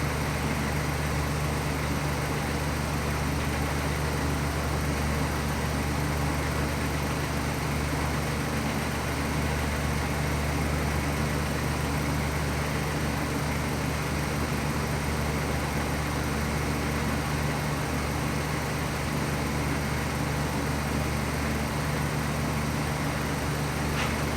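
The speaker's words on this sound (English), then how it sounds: "Now this is the alternator." The alternator with a noisy clutch pulley on a running 2013 Chrysler 200 gives a steady, unbroken engine-bay drone with a constant low hum and whirring, close and even throughout.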